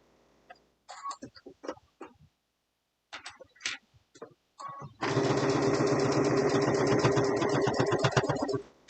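A sewing machine stitches a fabric mug rug in a sustained, rapid mechanical whir after several short bursts of needle clatter and handling noise.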